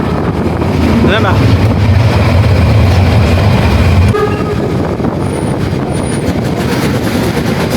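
A German coal-fired steam train rolls along the rails, a loud continuous rumble and clatter with heavy wind buffeting the microphone and a brief tonal squeal midway.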